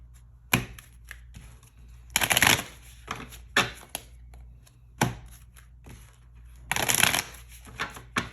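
Tarot cards are shuffled by hand up close, with several crisp riffling bursts and scattered taps and slaps between them, alone and fairly quiet.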